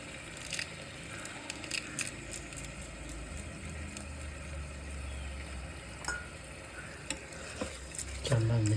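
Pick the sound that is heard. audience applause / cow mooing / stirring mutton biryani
stirring mutton biryani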